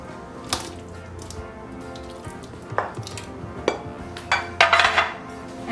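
A metal spoon scraping the bottom of a pot of traveler's stew made with beef, heard as a few short, uneven scrapes and clinks close by, over a low steady background hum.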